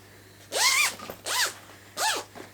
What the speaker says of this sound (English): So I have a continuous zip here, and I'm going to make it the length of my bag